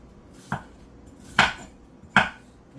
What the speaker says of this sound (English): I'm just going to chop up some onions real quick.